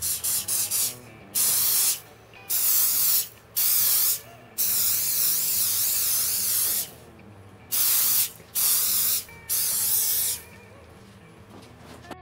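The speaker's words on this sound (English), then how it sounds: "We'll hit this with the accelerator and put another coat on." Superglue accelerator sprayed onto a guitar's superglue finish, heard as a series of short, close aerosol hisses in bursts of about a second each, separated by brief pauses, with no talking.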